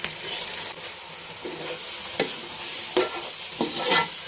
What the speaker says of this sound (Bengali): চালগুলো দুই তিন মিনিট ভেজে নেওয়ার পর